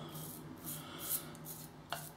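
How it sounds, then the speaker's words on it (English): A razor blade with a Rapira Super Stainless edge sliding over soap-lathered skin during a wet shave, soft, faint scraping strokes in a few slow passes with a quiet hum underneath and no talking. "just let the blade and the soap glide over your skin"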